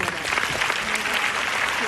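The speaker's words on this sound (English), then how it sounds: "Give yourself a round of applause first." An audience gives a dense round of applause at a live interview event, steady and full-bodied for its short length.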